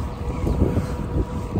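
Wind buffets the microphone while cycling on a bike road in the Jægersborg Dyrhavn deer park in Denmark early in the morning. A continuous low, blustery rumble with slight gusting swells, and no one speaks.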